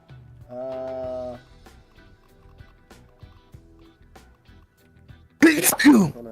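A person lets out one loud, abrupt sneeze close to the microphone near the end, following a stretch of casual talk.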